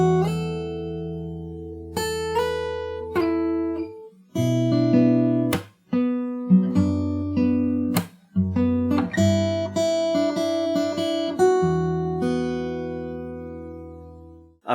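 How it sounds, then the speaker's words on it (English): A guitar plays the bridge of a song from Cyberpunk 2077 slowly, with clear plucked notes and chords ringing out one after another in an unhurried rhythm. It is close and moderately loud, with brief pauses between phrases. "So that's the whole bridge. I'm going to play it once really slow."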